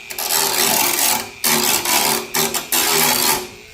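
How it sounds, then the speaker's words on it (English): Abrasive scuffing on a Nissan 370Z body panel, prepped before fiberglass goes on, comes as loud, continuous rasping strokes with short breaks between them, close and harsh. "scuff up the area with this right here"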